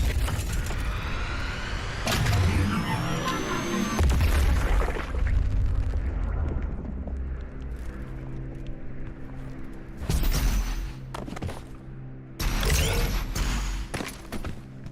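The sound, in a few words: shoulder cannon firing in DOOM Eternal video game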